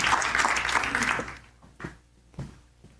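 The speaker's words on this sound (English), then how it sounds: "give him a huge round of applause" Audience at an SA Property Network evening event in Soweto applauds a speaker called to the stage: dense clapping at first that quickly thins to a few scattered claps.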